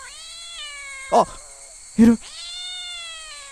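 Cat in the horror game Shadow Corridor gives long, sustained meows, loud and clear, broken by two short bursts of someone talking.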